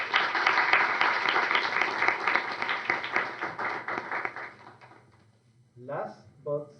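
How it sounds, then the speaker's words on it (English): Audience applause at a university energy event, a broad wash of clapping that rolls on for several seconds, thins out and fades, followed by a few scattered sounds near the end. "Let's give another round of applause for Kathy."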